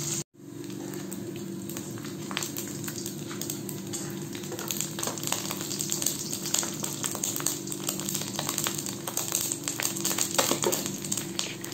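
Pork chop frying in a pan, a steady close sizzle with scattered crackles and pops that holds evenly throughout, under a low hum, with no talking.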